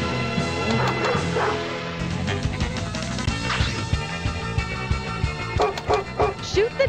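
A dog barking in a pinball video game, several short yips and barks mixed with game music, crashes and electronic effects, loud and busy throughout.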